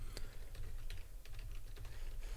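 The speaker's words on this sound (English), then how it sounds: "if you do hear typing, that's just me making alerts and typing to members of the community" Computer keyboard typing in quick, irregular bursts of soft clicks over a steady low hum, fairly quiet and close, with no voices.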